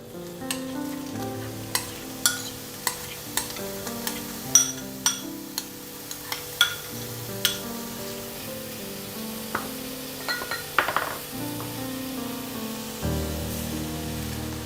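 Coconut sandesh mixture of sugar, rice flour, cardamom, cinnamon and ghee being poured and stirred in a wok over a low flame, with soft regular clicks and light scraping over a quiet tonal background.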